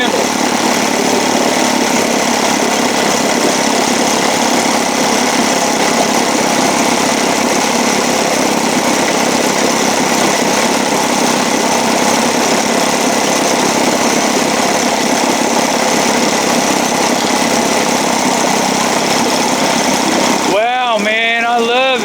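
An Evinrude 7.5 outboard motor runs loudly and steadily for about twenty seconds with a constant buzzing drone, then cuts off abruptly near the end, where a voice speaks.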